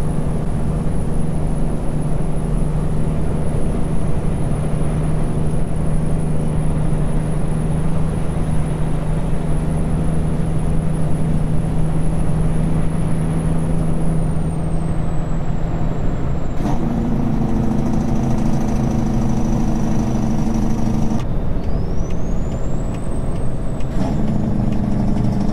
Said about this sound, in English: Steady line of traffic.